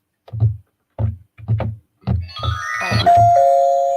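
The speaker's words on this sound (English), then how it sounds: "It was the doorbell." A car's built-in doorbell chime sound plays, a sustained bright two-tone ding near the end, preceded by several short bursts of low voiced sound and mouth noises.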